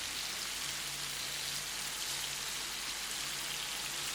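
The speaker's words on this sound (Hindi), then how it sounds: "जब चिकन मैरिनेट हो जाए तो इसे फ्राई पैन में हाई फ्लेम पर भूनें।" Marinated chicken fries in a pan over a high flame, giving a soft, continuous sizzle like light rain that holds steady throughout.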